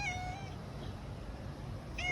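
A cat meows twice, a drawn-out plaintive call at the start and another at the end, with a quiet low background hum in between.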